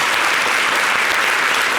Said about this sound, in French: qu'on applaudit très fort s'il vous plaît.